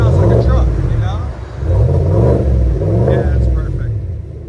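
Deep, rumbling revs from a 2021 GMC Yukon Denali XL 6.2L V8 with the muffler deleted rise and fall in several repeated surges, loud and close, with some speech mixed in.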